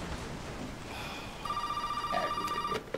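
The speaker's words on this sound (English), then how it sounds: "The phone's ringing." A telephone rings inside Resident Evil 7, a steady electronic bell tone with harmonics starting about halfway through and sounding continuously over a low game ambience before cutting off.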